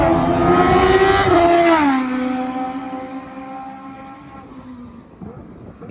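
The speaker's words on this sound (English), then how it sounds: "We had Liam Lawson in the Rodin car, the Rodin F1 car at Donington" A Rodin F1 race car at Donington roars loudly close by, engine screaming high then dropping pitch as it passes and fades into the distance, with no talk.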